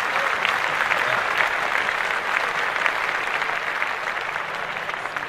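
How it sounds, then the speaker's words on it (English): Small group in a podcast studio clapping for a birthday, dense continuous applause at even strength from start to finish, fairly close. "We're going to clap that up immediately."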